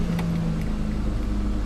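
BMW E39 engine after a rebuild, a steady low rumble with a faint tonal drone, close and continuous, with no talk over it.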